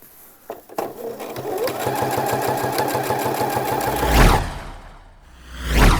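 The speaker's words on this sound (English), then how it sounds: "We want to do a line of stitching along that folded edge, about 3 millimeters from the edge." A sewing machine stitches along the folded hem edge of a shirt, a fast even mechanical whirr with rapid needle clatter running for several seconds, close and loud, with brief handling clicks before and after.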